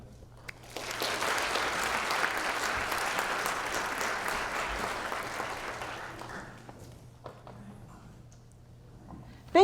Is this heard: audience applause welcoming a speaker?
yes